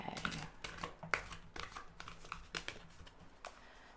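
Tarot cards being shuffled by hand in soft, repeated riffling bursts with quick papery flicks and snaps, faint and close.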